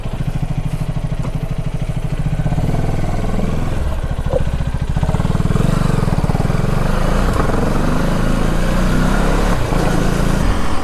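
A Husqvarna Vitpilen 250 cafe-racer motorcycle being ridden on a road, its single-cylinder engine droning steadily and loudly close to the microphone, with a thrumming pulse and slight rises in revs.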